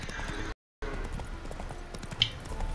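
Horse hooves clip-clop in The Witcher 3 with a steady, moderately loud rhythm of soft thuds under a faint ambient bed, briefly dropping out and resuming.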